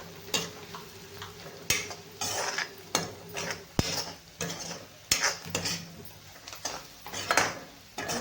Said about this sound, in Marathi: चांगलं मस्त हळद छान मस्त परतून घ्यायची आहे आपल्याला